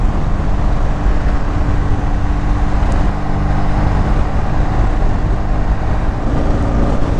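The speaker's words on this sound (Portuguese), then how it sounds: "essa moto anda demais" A Triumph Tiger 1200 on a road ride, its engine holding a continuous droning tone beneath constant wind roar, loud and unbroken throughout.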